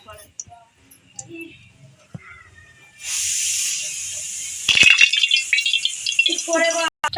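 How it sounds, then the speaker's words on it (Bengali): Small chela fish hit hot oil in a kadai with a sudden loud, steady hiss and sizzle that carries on to the end, after quieter moments with a few soft clinks and faint talk. "সব মাছগুলো আমি ছেড়ে দিচ্ছি কড়া"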